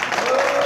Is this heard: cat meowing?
no